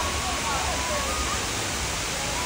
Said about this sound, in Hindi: ये है वो वाटरफॉल जिसके लिए हम लोगों ने इतनी मेहनत की